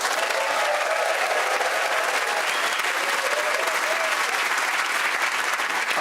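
A studio audience claps steadily at a comedy game show, a dense, even wash of applause filling the whole stretch without pause.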